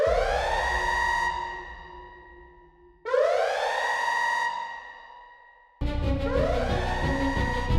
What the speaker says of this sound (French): Elles furent accompagnées de sirènes d'impact qui se mirent à hurler dans les haut-parleurs Vox.